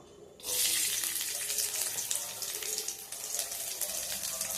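Chopped garlic hits hot oil with a sudden loud burst of sizzle that settles into a steady, close crackling hiss.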